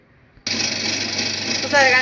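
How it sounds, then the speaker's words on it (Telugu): An electric wet grinder churns idli batter, a steady loud whirring drone that starts abruptly after a brief quiet moment and continues, with a voice briefly audible near the end. "పిండి గ్రైండర్లో వేస్తాం అందుకు గ్రైండర్లో వేసుకుంటేనే మంచిదని చెప్పేది"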